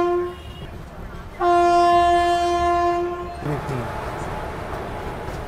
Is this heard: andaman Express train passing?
yes